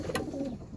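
A pigeon kept in a cage gives a short, soft coo, close by against a faint background murmur.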